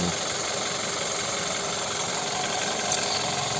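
A 2008 Skoda Roomster Scout with a 1.6 MPI petrol-gas engine and automatic gearbox idling, heard up close under the open bonnet as a steady, even mechanical hum with a faint light rattle and no talk.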